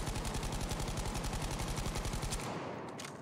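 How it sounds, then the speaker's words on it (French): Rapid automatic gunfire from a first-person shooter, fired from a crouch, a fast even burst of close loud shots for over two seconds that cuts off into a fading tail. "Au même point, je tire."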